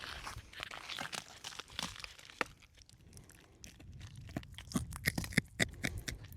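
Someone bites and chews a piece of salt crust from the Death Valley lake bed, giving close, irregular dry crunches and crackles that grow denser toward the end.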